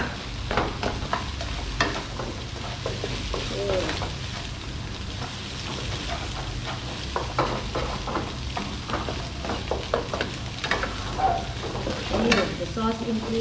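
Rice and egg stir-fried in a pan at a Thai cooking class in Bangkok, a continuous close sizzle with repeated scraping and tapping of the utensil, and a few quiet voices in the background.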